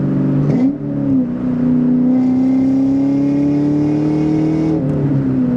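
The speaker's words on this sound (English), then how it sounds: "has a really good exhaust note" A 2004 Ford Mach 1 with a 4.6 V8, five-speed, Bassani X-pipe and Flowmaster catback, heard close up as the engine revs and settles into a steady, deep droning exhaust note with rising pitch, then eases off near the end.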